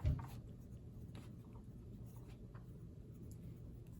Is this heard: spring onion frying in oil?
no